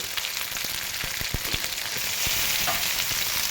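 Chopped tomato fries in a little oil in a pan, giving a steady close sizzle broken by several sharp scraping and stirring knocks.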